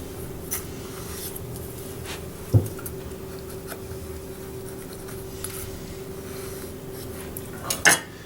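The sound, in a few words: knife cutting pear slices down the middle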